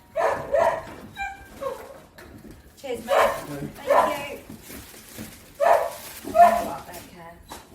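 Dog barking and whimpering indoors in short irregular bursts close by, mixed with a man's speech.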